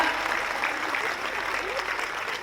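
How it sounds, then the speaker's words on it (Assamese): An audience claps steadily and densely throughout at an inaugural function for the first MBBS academic session of a medical college, a continuous wash of applause filling the room without pause. "সকলোৰে হাত চাপৰি মাৰক।"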